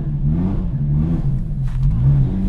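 The 1JZ engine of a loud 500 HP Lexus IS300 idles and revs in low, rising and falling swells, steady and close, with a faint brief rattle near the end.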